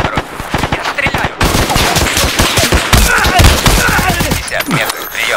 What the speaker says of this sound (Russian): Я стреляю!